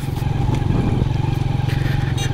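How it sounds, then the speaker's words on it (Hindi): A motorcycle rides along a sandy road under construction, its engine giving a loud steady close drone with a pulsing low rumble throughout. "थोड़ा बाइक को ज़रा ध्यान से चलाना पड़ रहा है, रेत के अंदर घुस जाती है बस।"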